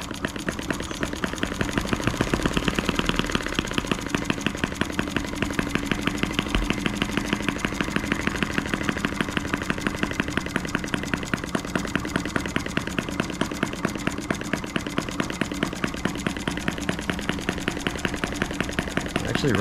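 A Model M12B engine running steadily at a low idle, with a fast, even chugging pulse that stays loud and close throughout without any talk.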